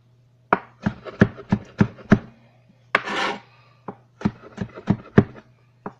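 A knife cuts vegetables into thin slices for a cabbage salad. Sharp, close chops land on a cutting board in quick bursts, with a short scraping stroke in between and a low steady hum underneath.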